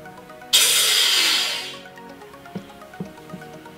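Air rushes in with a sudden loud hiss as the valve on a vacuum chamber holding water is released, fading over about a second and a half, followed by a few faint clicks and drips.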